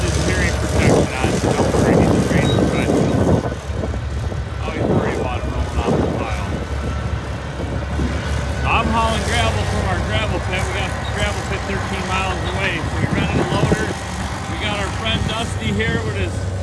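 An old D6 crawler dozer working on gravel near a barn site, a continuous loud diesel engine drone with clanking track noise, under steady talking.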